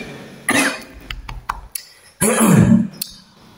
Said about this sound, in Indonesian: batuk ini sangat mengganggu saya